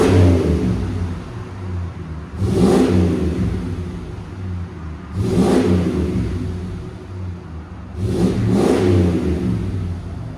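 Close, loud idle of a 1993 Ford F-150 single-cab pickup, 5.0L V8 breathing through a Magnaflow exhaust, broken by three strong throttle blips a few seconds apart, each climbing quickly and falling back to a rumbling idle.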